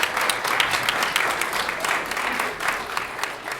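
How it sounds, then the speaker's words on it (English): Applause from the audience at a horror film festival awards presentation for best screenplay winners, a sustained, even wash of clapping filling the room from start to end. "a big round of applause for those guys"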